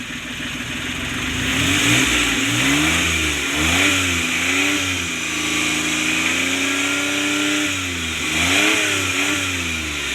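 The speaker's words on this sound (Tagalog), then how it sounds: "try natin taasan yung RPM nya" A small multicab engine revs up repeatedly from idle, with rising and falling pitch sweeps, loud and close, and no voices.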